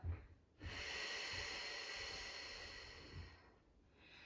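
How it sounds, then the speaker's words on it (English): A single long, slow exhale of deep breathing during an abdominal exercise session, close and soft, after a brief intake, with no talking. "Deep breath in, belly relaxes back out."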